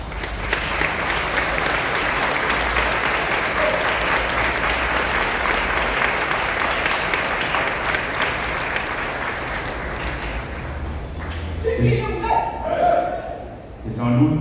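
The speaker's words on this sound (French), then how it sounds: "Je voudrais que nous puissions applaudir fortement pour ces jeunes qui viennent s'engager" A church congregation at a Sunday Advent Mass in Nkembo applauds loudly and steadily for young Catholic scouts. The dense clapping fades out toward the end, leaving scattered voices and a few remaining claps.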